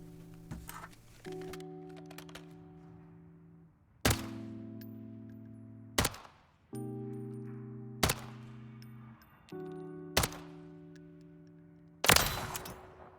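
Call of Duty MW3 gunfire striking a player: sharp single shots spaced a couple of seconds apart, each followed by sustained ringing hit-marker tones, loud and close with no talk.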